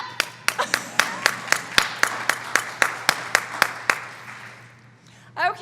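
A single person claps slowly and sparsely in a conference hall, about fifteen sharp, evenly spaced claps that stop after roughly four seconds, followed by near silence and a brief soft sound at the end.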